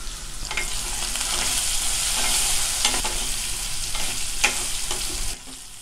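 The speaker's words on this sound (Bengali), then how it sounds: "3-4 মিনিট ধরে এগুলোকে আমি ভেজে নিয়েছি" Potatoes seasoned with salt and turmeric fry in a pan of oil, giving a steady, close sizzle with occasional sharp stirring scrapes throughout, no voices.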